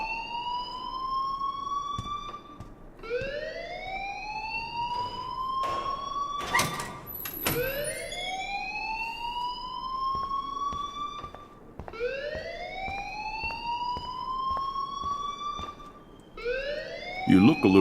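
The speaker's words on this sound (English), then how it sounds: "please turn off that alarm since that's your job" A fire alarm in the video game Life is Strange sounds in repeated rising whoops, each sweeping upward then holding, cycling steadily for the whole stretch with a few brief clunks between.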